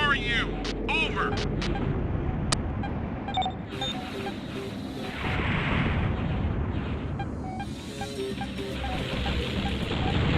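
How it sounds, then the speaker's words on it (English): Bombing explosions pound the ground in the PS1 game G-Police, rolling heavy blasts and rumbling debris layered with aircraft noise and clicks, while radio voices talk over the din throughout. "They're bombing us."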